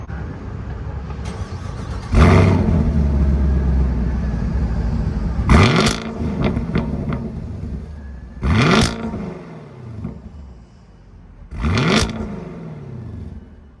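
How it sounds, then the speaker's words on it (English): A stock 2021 Chevrolet Camaro LT1 V8 cranks and fires up with a deep rumble, then idles and is revved in several sharp, loud bursts. "that was, of course, the stock 2021 Camaro LT1 with the GM Performance Exhaust dual mode"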